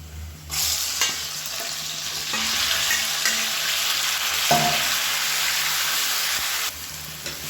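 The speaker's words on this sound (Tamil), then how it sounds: "இப்போ இந்த சிக்கனை சேர்த்து நல்லா எண்ணெய் பிரித்து வர அளவுக்கு வதக்கிக்கலாம்" Chicken sizzles steadily in ghee and oil in a pan, a dense continuous frying hiss with occasional stirring scrapes, close and fairly loud throughout, no voices.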